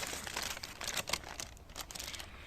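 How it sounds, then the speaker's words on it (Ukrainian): A plastic bag being opened on a mushroom-picking walk in an autumn forest, giving a steady close crinkling and rustling with a few sharper crackles across the whole moment. "Відкривай пакетик"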